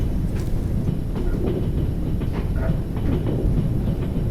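In a Trans-Siberian Railway simulator game, a train rolls steadily along the rails with a continuous low rumble and scattered rhythmic clicks from the wheels.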